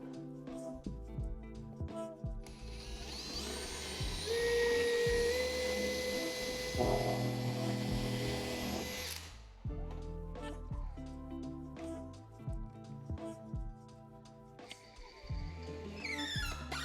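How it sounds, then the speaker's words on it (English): A power driver sends a long 60 by 4.5 screw through a bullnose stair tread into the riser on site, a rising whirring drone that builds for several seconds and then cuts off, followed by knocks and clattering handling. "So screwing it from this side."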